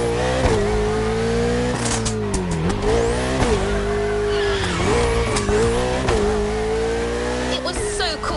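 A car drifts in the racing video game The Crew Motorfest, its engine revving and surging in pitch while tires squeal and skid almost continuously, loud and close throughout.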